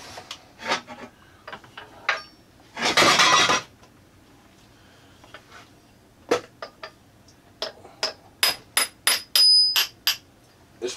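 Sharp metallic hammer blows drive a shaft out of a 1940 Globe A4020 Model 75 meat slicer with a brass punch, a scattered run of close, loud strikes with a brief scraping burst partway through.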